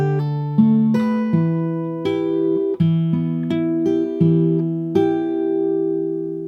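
Acoustic guitar slowly plays section 4 of a song, a series of distinct plucked notes and chord strums ringing out one after another, close and unaccompanied.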